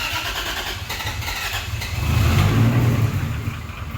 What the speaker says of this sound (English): Hopefully it starts right up.